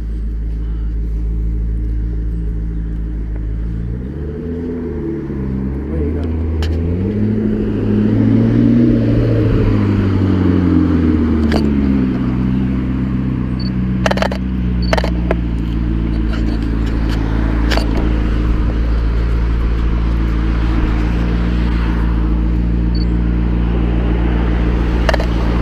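McLaren cars at a car meet at Ascot, their engines rumbling and revving with rising and falling pitch. The engines carry on steadily under crowd noise and a voice, with a few sharp clicks scattered through.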